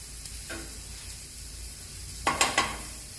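Chicken sizzles and fries in a pan, a steady low hiss with a few brief stirring or pan clatters near the end, no voices.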